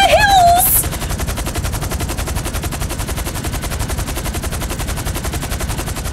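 Rapid automatic gunfire in GTA V, a dense continuous rattle of shots held steady for several seconds, loud and close, after a brief high electronic chirp at the start.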